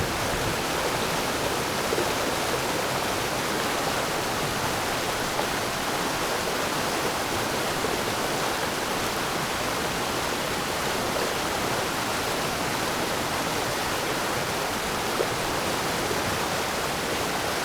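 Heavy thunderstorm rain pours down in a forest, a dense, steady hiss of downpour on leaves lasting throughout, loud and close with no talking.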